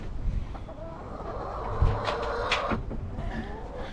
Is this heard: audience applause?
no